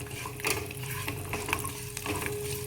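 Garlic cloves and cumin seeds fry in hot oil for a peanut chutney, a steady close sizzle with a few louder scraping stirs along the way.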